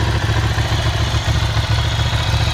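A 2005 Ducati Monster 620 motorcycle idles close by, its engine giving a loud, lumpy, pulsing burble with a steady mechanical clatter underneath.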